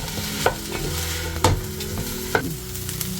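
Bell pepper with ginger garlic paste sautés in a pan, giving a steady close sizzle broken by three distinct stirring scrapes spaced about a second apart.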